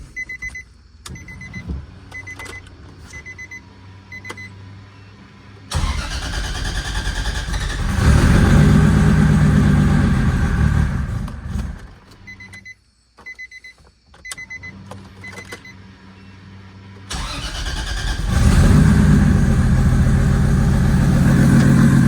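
A car engine, just fitted with a replacement turbo, cranks and catches twice on a low battery aided by a charger, each start swelling into a loud, steady idle between quieter stretches with faint beeping.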